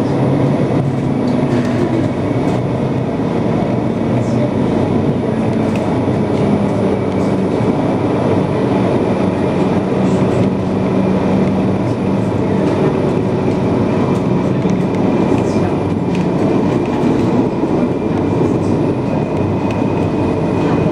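Steady rumble of a tram running between stops on a city line, a continuous loud rolling drone with faint rail squeals and rattles throughout, no one speaking.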